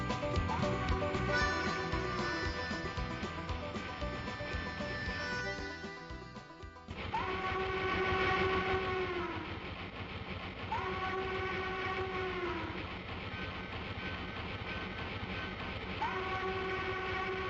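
A John Deere train rumbles past a crossing, sounding its horn in long repeated blasts over steady clattering wheels, loud and close throughout.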